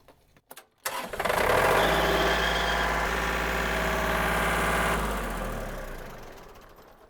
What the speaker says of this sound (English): I need to run the engine for about 30 seconds